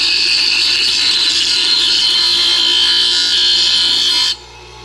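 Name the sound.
bench grinder grinding a shim edge flat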